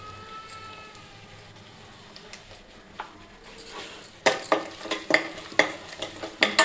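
Ginger-garlic paste with turmeric stirred in a frying pan, a quiet steady sizzle at first, then a run of sharp, rhythmic spatula scrapes and taps growing louder toward the end.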